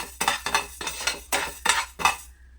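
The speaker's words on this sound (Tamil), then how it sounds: "பச்சரிசியை நல்லா பொன்னேரமாக வறுத்துக்குவோம்" Raw rice dry roasting in a pan, stirred with a metal spoon: six loud, close scraping, rattling strokes in a steady rhythm, ending in quiet.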